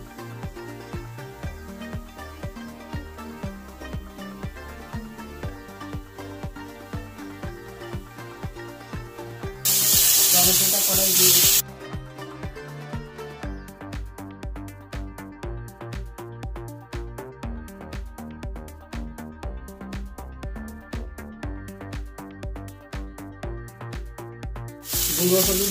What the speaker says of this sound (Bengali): সজনে ডাঁটাটা কড়াই দিয়ে দিচ্ছি